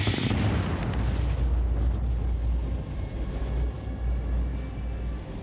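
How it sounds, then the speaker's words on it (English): A rock blast at the Diavik diamond mine in the frozen tundra: a deep, sustained rumble that starts with a strong burst and rolls on as a broad, heavy roar for several seconds, with no voices. "they blast out thousands of tons of rock per day, searching for diamonds which originally formed 150 kilometers below ground."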